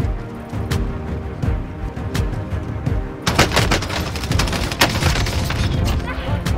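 Oden rifle fire in Call of Duty Warzone arrives as sharp repeated gunshots, scattered at first and then a dense loud burst of rapid fire from about the middle onward. Other shots and background noise from the game sit underneath.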